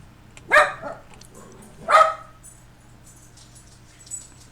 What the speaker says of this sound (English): it's the puppies bark.